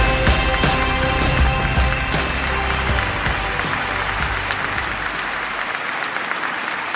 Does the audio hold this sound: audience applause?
yes